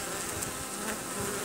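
Honeybees swarm at a hive entrance crowded by pest beetles, a dense continuous buzzing drone heard up close, loud and steady, with no voices.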